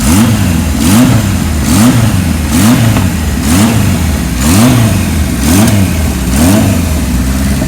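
A cold 1978 Kawasaki KZ1000 LTD motorcycle engine revs in steady repeated pulses, about one blip per second, each surge rising and falling over a loud, close, continuous running engine with no talk.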